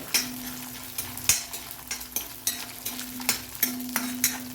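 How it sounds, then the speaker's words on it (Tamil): Green chillies with chana dal and urad dal sauté in hot oil for hotel-style coriander chutney, a close sizzle punctuated by a regular rhythm of sharp spatula taps and scrapes against the pan. "அந்த ஸ்டேஜில் 2 பச்சை மிளகாயும் இப்படியே போட்டு வதக்கிறேன்."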